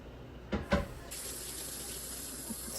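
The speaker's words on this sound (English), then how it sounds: "Now we wash the rice" Water runs from a kitchen tap while rice is washed, with a couple of splashes or knocks at first, then a steady close stream filling the sink.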